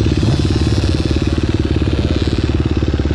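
An enduro motorcycle engine runs loud and close with a fast, pulsing rhythmic chug, holding steady throughout without voices.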